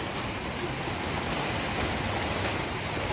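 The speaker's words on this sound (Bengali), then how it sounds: "কীরকম বৃষ্টি হচ্ছে।" Heavy rain falls steadily as an even, dense hiss of rushing water with no clear breaks or voices.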